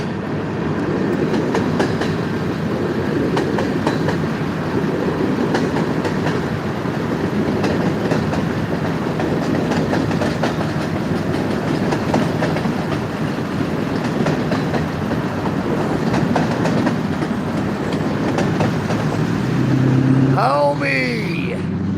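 A short diesel train rumbles past close by, loud and steady, its wheels clattering over the rails throughout. Near the end the passing noise drops away and a brief tonal squeal rises.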